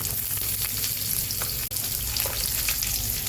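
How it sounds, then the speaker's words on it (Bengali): Dried chili, nigella seeds, garlic cloves and chopped onion hit hot oil, producing a continuous crackling sizzle with stirring, close and moderately quiet, briefly dipping once midway. "এবার দিয়ে দিচ্ছি শুকনো লঙ্কা, সঙ্গে দিয়ে দিচ্ছি কালো জিরে ফোড়ন, 4-5টা রসুন"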